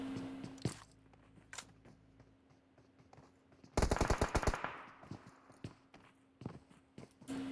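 Gunfire in a PUBG Mobile esports match: a few scattered shots and footstep-like crunches, then a loud rapid automatic burst of a dozen or so shots midway, followed by a few more isolated shots fading out.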